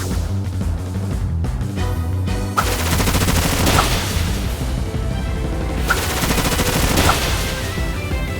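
Bullet Seed, a rapid multi-hit Pokemon move in Pokemon Shining Pearl, sounds as loud bursts of quick rattling hits in several volleys, alone without talk.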